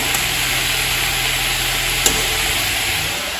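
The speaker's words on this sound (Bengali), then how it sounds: "সব সবজি দিয়ে দেবো একটু নেড়ে চেড়ে দেবো" Mixed vegetables fry in a pan, making a constant loud sizzling hiss. A single clack of a utensil is heard partway through, and no one speaks.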